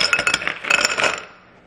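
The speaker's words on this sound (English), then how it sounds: "I love the way the ice maker makes the ice cubes." Small ice cubes from a home ice maker clink and rattle into a glass in a quick cluster of bright, close taps that thin out and fade after about a second.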